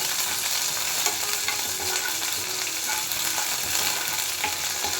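Dense crackling and popping of mustard seeds and curry leaves spluttering in hot oil, continuous and close, with faint stirring underneath.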